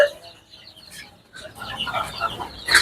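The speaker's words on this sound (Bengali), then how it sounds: "আমার এই সাইডে আমরা বহুত মুরগি আছে।" Desi hill chickens on a farm give a few close clucks and short rooster-like calls, rising louder toward the end, with faint voices mixed in.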